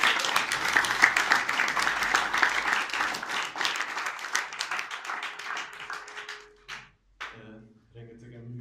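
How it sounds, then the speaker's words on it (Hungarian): A conference audience applauds volunteers with dense, sustained clapping for several seconds that gradually thins out and stops, after which a voice begins speaking. "minden kedves önkéntesnek és szolgálattestvérnek óriási nagy tapsot kérjük szépen"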